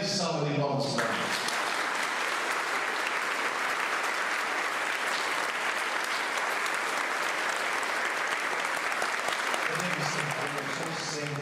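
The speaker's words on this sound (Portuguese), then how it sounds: "Podemos dar uma grande salva de palmas para Deus" Loud, sustained applause from a church congregation at a Holy Thursday foot-washing Mass, dense clapping filling the space for about ten seconds after a brief voice at the start, then easing off near the end.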